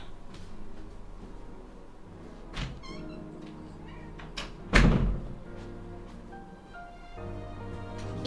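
A door thumps open and a house cat meows several times nearby, its cries coming in short bursts around the loud thunk of the door.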